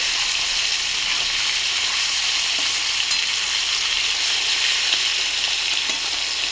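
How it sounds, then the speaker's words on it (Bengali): Small fish rubbed with salt and turmeric frying lightly in oil, a steady close crackling sizzle that holds evenly throughout with no talking. "তেল দিয়ে হালকা করে একটু ভেজে নেবো"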